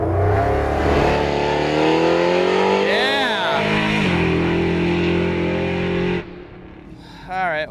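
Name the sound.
nitrous muscle truck making a drag strip pass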